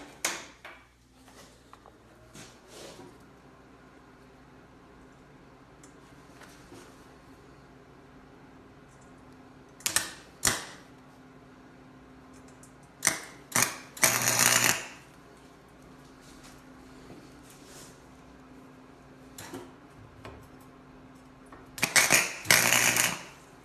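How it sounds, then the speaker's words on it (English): Tack welds on the frame for a reclaimed pallet wood LED world map, heard as a few short, sharp crackling bursts over a low steady hum, separated by long quiet stretches. "we'll make our first tack welds"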